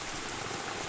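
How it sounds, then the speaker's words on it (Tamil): Heavy rain driven sideways by the wind pours down in a dense, steady hiss that fills the whole second, close and loud, with no voices. "சரியான மழை, அது இப்படி சைடில் அடிக்கிறது"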